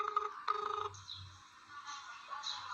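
A phone rings unanswered indoors, a short electronic ringtone that plays in bursts and repeats, moderately loud and heard on its own.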